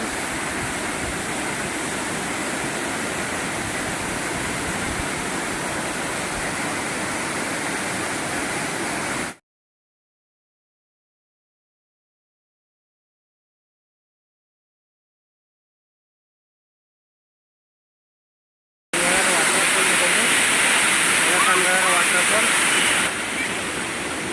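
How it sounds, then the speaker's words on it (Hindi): Sanghagra waterfall in Keonjhar roars as a dense, constant rush of falling water, loud and close, cut off by a long stretch of total silence before the same steady roar returns. "देखो सानघागर वाटरफॉल का देखो"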